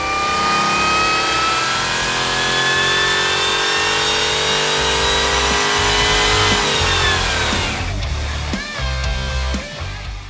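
A stock Ford 7.3 Godzilla V8 fitted with a Harrop TVS2650 supercharger runs on an engine dyno, loud and close, its pitch rising steadily in a long rev climb before dropping off and settling into rough, uneven idling.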